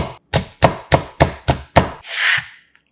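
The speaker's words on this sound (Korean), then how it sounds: "청양고추 1개도 송송 썰어서 깔끔한 매운맛을 더해주고" Knife finely slicing a Cheongyang chili pepper on a cutting board: six crisp, evenly spaced chops in quick rhythm, close and clear, followed by a soft scraping sweep.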